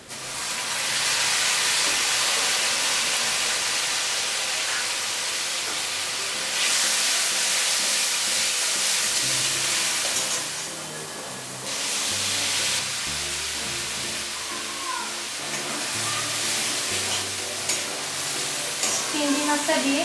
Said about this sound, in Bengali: পেঁয়াজ, কাঁচা লঙ্কা কুচি ভেজে নিতে হবে ব্রাউন করে।